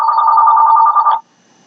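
A telephone rings loud and close in a steady trilling burst for about a second before cutting off abruptly into silence.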